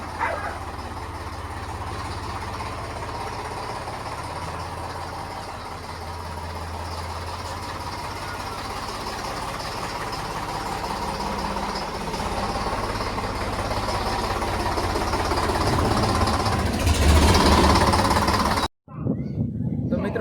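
A tractor engine rumbles steadily and fairly close for a long stretch, growing a bit louder near the end before a brief cutoff.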